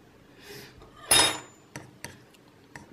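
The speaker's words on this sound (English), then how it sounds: "Again, mix it all together." A utensil mixing banana pancake batter with flour in a bowl, a few soft stirring swishes then a sharp clatter against the bowl followed by several light taps and clinks, close and with no talk.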